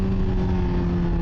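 A 2024 Honda CBR600RR engine drones steadily at close range during cornering practice, an even mechanical hum with a constant pitch and no clear gear-change break, loud and unbroken with no talk.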